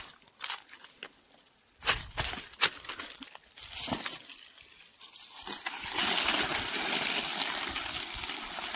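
Water from a pump gushing onto farmland in a Konkan village, a steady rushing splash that swells in from the middle and holds to the end, preceded by scattered rustles and knocks close by.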